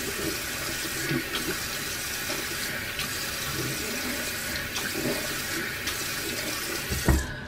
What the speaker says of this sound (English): let me get this rinsed out with warm water